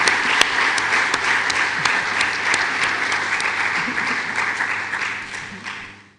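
A lecture audience gives a dense round of applause that keeps going steadily and then fades toward the end.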